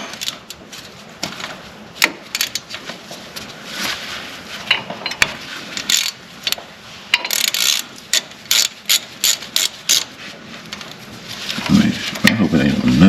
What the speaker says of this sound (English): let me go and get a socket, take that out